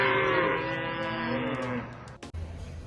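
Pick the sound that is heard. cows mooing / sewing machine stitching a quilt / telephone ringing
cows mooing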